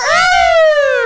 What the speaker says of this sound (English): That's our siren